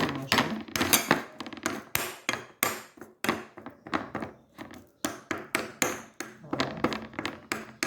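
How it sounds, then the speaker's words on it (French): A spoon clinks and scrapes in a bowl while lemon juice is mixed into a thick paste for a face mask, with rapid, irregular taps and knocks close by and no talking. "je vais passer une autre cuillère à soupe de citron. Voilà, je vais mélanger."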